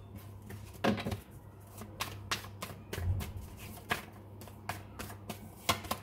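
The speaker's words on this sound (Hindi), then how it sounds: "let me take some more cards because I have to tell you everything in detail" Tarot cards are shuffled and drawn by hand, giving a series of soft irregular flicks, slaps and taps at close range in a quiet room, with no speech.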